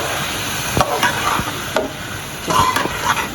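Garlic, chillies and fenugreek fry in a pan with a close, continuous sizzle, broken by several sharp scraping stirs of a spoon against the metal. No one speaks.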